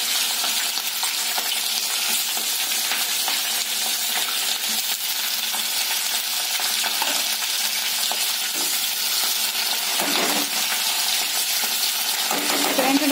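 Green chilies frying in hot oil in a pan, giving a continuous loud, close sizzle and crackle that holds steady throughout with a little stirring and no voices.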